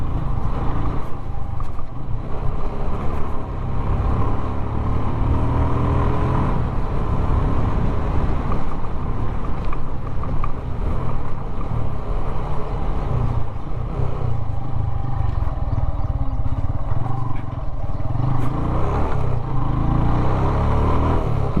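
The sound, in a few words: motorcycle riding engine sound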